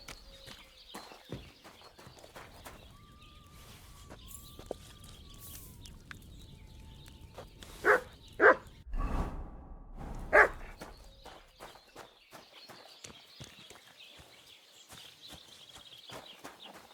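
In the medieval world of Kingdom Come Deliverance 2, a dog gives a few sharp barks midway among clip-clopping hooves, footsteps and soft ambient noise.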